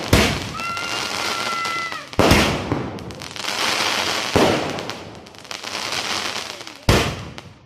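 Diwali firecrackers burst at night outdoors, with several sharp, loud blasts each trailing off into a crackling, rumbling tail, and a high whistle early on.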